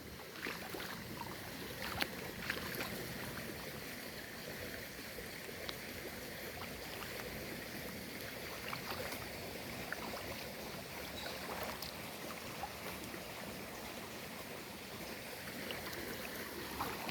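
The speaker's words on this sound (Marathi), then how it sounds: "ते पाणी असं चाललं आहे बघा रानातून" Rainwater rushes through farm fields in a steady, broad wash that never lets up, with faint splashing and crackle throughout. No voices.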